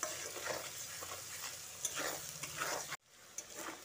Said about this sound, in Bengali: এইভাবে নুন দিয়ে পেঁয়াজটাকে ফ্রাই করলে পেঁয়াজটা খুব তাড়াতাড়ি সফট হয়ে আসবে